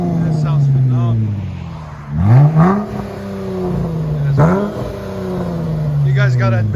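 A 2017 Dodge Challenger 3.6L V6 fitted with Dynamax race bullets revs loudly several times, its exhaust pitch rising sharply in short bursts and then settling back to a steady idle drone.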